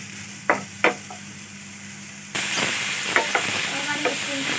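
Mushrooms stirred and sizzling in a hot pan, a few sharp utensil scrapes first, then a loud steady frying hiss with repeated spoon clatters against the pan.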